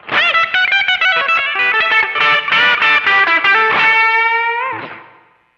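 An electric guitar on its bridge pickup, played through distortion with the tone knob turned up, rings out a bright, sustained distorted riff of quick picked notes that ends on a held chord fading away, with no voices.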